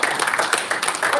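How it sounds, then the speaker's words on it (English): An audience at a church gathering in Hoppers Crossing, Melbourne, claps for the host, a short burst of dense close applause with some voices mixed in. "please give her a big round of applause"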